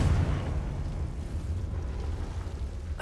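A Confringo fire spell explodes in the Hogwarts Legacy game, a single heavy fiery blast with a deep boom that decays into a low rumble, followed by a faint sharp crackle at the end.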